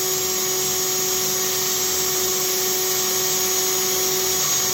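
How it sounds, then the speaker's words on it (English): A cordless drill spins steadily with a continuous high whine as a chucked metal part for a smoker rotisserie is deburred, the droning tone holding loud and even throughout with no talking. "I got that piece all chucked up in the cordless."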